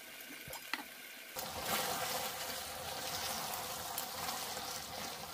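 Water pours into a pan of simmering drumstick (moringa) curry, starting after a brief quiet and then hissing and sizzling in a loud, steady rush.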